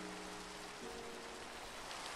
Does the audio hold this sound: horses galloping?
no